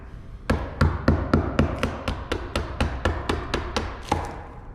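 A chisel is struck again and again as it cuts into a walnut and black epoxy piece, giving about fifteen sharp, evenly spaced taps, loud and close, with no voices.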